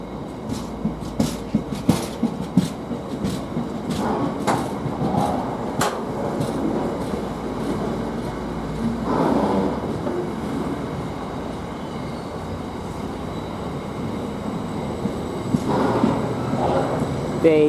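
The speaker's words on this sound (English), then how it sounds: "But we focused on this freight train, because we've seen that train so many times" A Felixstowe–Doncaster container freight train rolls through Derby Road station, with rhythmic clanks and clacks of wagons over rail joints, loud and close, and a low rumble under the passing cars.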